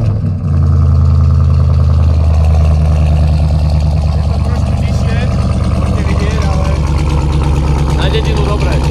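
An 800 hp Dodge Ram TRX pickup with a Hellcat engine cranks and fires, then settles into a loud, deep, lumpy idle that rumbles on steadily close to the microphone.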